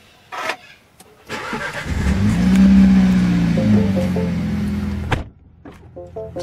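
A new Mini Cooper starts by keyless push-button ignition: a short electronic chime and click, then the engine cranks and catches with a loud revving surge that settles into idle before cutting off, followed by small electronic beeps.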